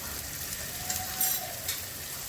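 Chilli powder, cumin, coriander powder and green chillies fry with chopped tomatoes in a pan for a spicy tilapia curry, giving a continuous close sizzle with faint stirring scrapes and no talk.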